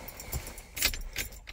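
Car keys jangle briefly and softly while the ignition key is turned off in a 1987-1993 Cadillac Allante, a few light metallic clinks up close.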